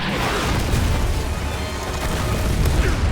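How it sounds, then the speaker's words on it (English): An explosion in the Battlefield 6 video game, a loud, sustained rumbling boom with crackling debris that stays dense and steady throughout. "After another cheeky explosion"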